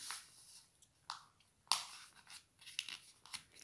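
Paper being folded in half for an origami bird: faint, close crinkles and sharp creasing snaps, one crisp crack standing out, in a quiet room with no talk.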